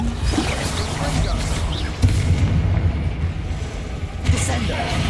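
The Confringo blasting spell explodes in Hogwarts Legacy with two sharp booms about two seconds apart, over a constant background of game rumble and clatter.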